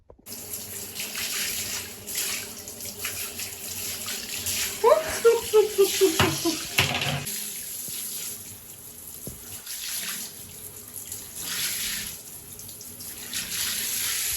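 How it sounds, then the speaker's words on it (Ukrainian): Yellowish water runs steadily from a tap into a sink, a continuous hiss with a brief clatter partway through. "Вода жовта біжить."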